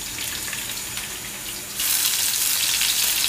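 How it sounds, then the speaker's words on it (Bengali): Chopped onions and green chillies fry in soybean oil, a steady watery hiss that surges noticeably louder partway through and stays there. "পেঁয়াজগুলোকে একটু ব্রাউন করে ভেজে নেব আমরা"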